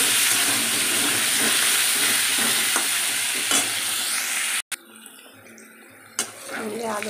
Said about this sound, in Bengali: এই তেলেই আমি আলুটা ভেজে নেবো লাল লাল করে